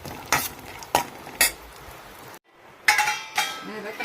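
A spoon stirs raisins, cashews and chopped almonds frying in ghee for vermicelli payasam in a home kitchen, giving several distinct metal clinks against the pan over a soft sizzle.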